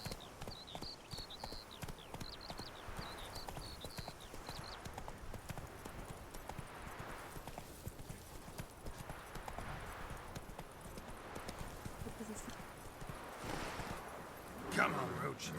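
Roach the horse gallops in The Witcher, a fast continuous clip-clop of hooves running steadily beneath a voice talking.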